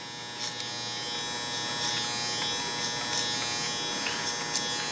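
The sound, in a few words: electric hair clippers cutting hair using clipper over comb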